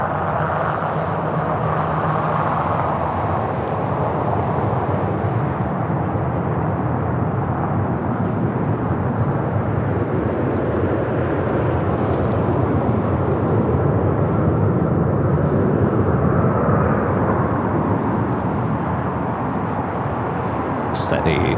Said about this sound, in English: 757 at 300, just touching down here on the south side